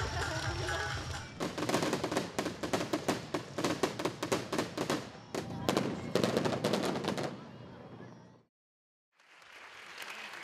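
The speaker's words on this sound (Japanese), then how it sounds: "観覧エリアの間近で花火が打ち上げられるのが特徴です" A fireworks display at a local summer festival launches close to the viewing area, with rapid bursts of crackling pops and booms in a dense sequence, then a pause and renewed sound.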